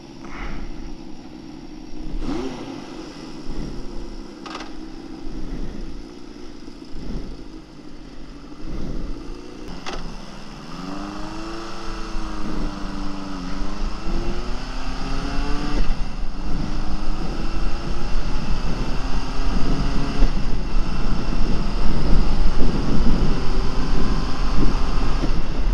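A Honda CB750F motorcycle engine, a cafe racer project bike, starts up nearby and settles into a steady idle, then revs rise and fall in smooth sweeps as the engine gradually grows louder, with no talking.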